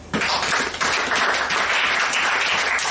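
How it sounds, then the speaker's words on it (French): A church congregation bursts into loud, sustained applause and cheering at a worship service, a dense wash of clapping that sets in abruptly and holds steady. "Acclame pour Jésus."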